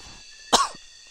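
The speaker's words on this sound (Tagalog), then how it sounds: "Parang umuubo ko guys." A single sharp, close cough from a person in a dim outdoor setting, standing out from a faint steady background hiss, with no talking.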